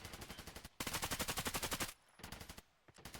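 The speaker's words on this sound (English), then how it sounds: "Yes, going for the pre-fire, doesn't hit anybody." Rapid automatic gunfire from a pre-fire in the video game Hunt: Showdown, loud bursts of evenly spaced shots in three strings separated by short pauses.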